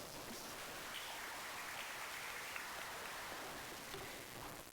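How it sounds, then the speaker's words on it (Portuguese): An audience at an academic university conference applauds a speaker coming to the stage. The clapping is steady, dense and quiet, sounding distant, and lasts throughout with no talk. "uma salva de palmas para ela"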